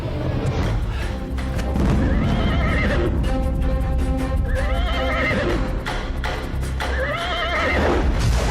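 A horse whinnies repeatedly over its galloping hooves, set against a loud, busy music score with occasional deep thuds; the neighs rise clearly at intervals across the stretch.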